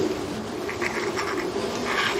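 Pigeons in a racing pigeon loft cooing softly over a steady background hum, with faint, low continuous murmuring and no talk.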